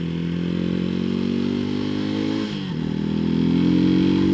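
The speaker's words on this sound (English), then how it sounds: "now we're riding back into town on Madison, headed back to the shop" Janus Halcyon 250 motorcycle riding in town, its engine loud and close throughout, with a brief dip as it shifts before the revs climb again.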